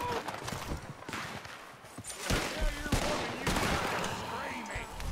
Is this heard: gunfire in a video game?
yes